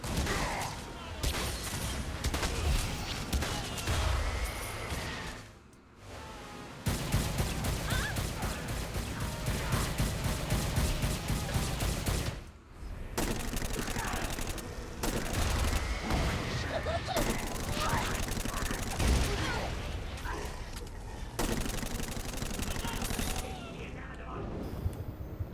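Gunfire in Saints Row: Gat out of Hell, with a sniper rifle in use: long stretches of loud, dense shooting and crashing broken by a few short pauses, and someone talks over parts of it.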